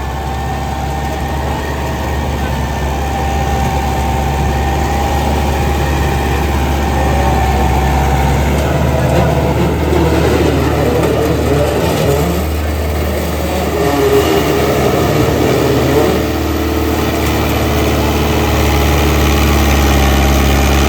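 A New Holland 850 tractor with a super seeder runs nearby, its engine holding a steady, loud, low idling rumble with vibration throughout and slight swells in the middle.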